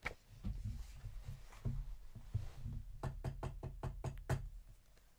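Knuckles rap on a wooden door in a quick run of about eight close, crisp knocks, heard after a stretch of low background rumble.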